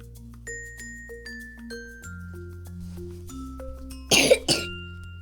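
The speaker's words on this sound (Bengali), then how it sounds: "তোমার কি কাশি হয়েছে বন্ধু? হ্যাঁ, আমার কাশি হয়েছে বন্ধু।" Two sharp coughs ring out near the end over a gentle chiming melody of sustained tones.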